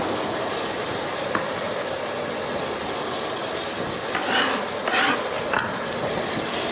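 Tomatoes going into a hot pan with rice, giving a steady sizzle and stirring hiss throughout, with a few brief louder bursts of frying near the end and no talk.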